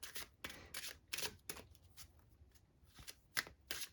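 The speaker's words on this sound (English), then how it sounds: "I am going to pull some Romance Angels Oracle cards here for us" Romance Angels oracle cards shuffled by hand, with repeated crisp riffling bursts in an irregular rhythm, close and fairly soft, with short pauses between shuffles.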